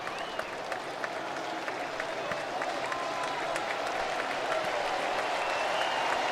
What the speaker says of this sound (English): This crowd is coming to their feet as Duran is ready to go.